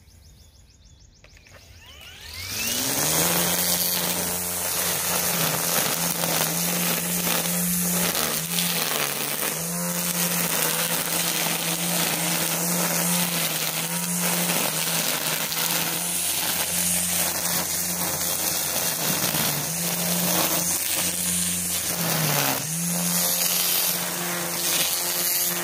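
A Makita 36V brushless string trimmer spins up and runs steadily at speed two, a loud continuous whirring hum with slight wavering in pitch, close by and alone.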